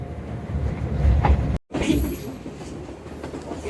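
The Shalimar Express pulls away from Sangla Hill station, a close rolling rumble with wheel clatter and metallic squeal, cut by a brief dropout before the train noise continues steadily.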